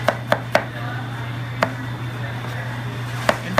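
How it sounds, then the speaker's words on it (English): Knife chopping broccoli florets and stem into bite-sized pieces on a cutting board, making six or seven crisp, irregular knocks over a steady low hum. "I'm going to take my knife and chop through it"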